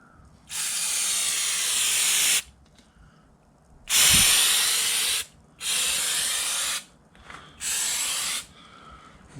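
Brake cleaner sprayed onto lathe parts in four separate hissing bursts, each lasting one to two seconds with short pauses between, loud and close.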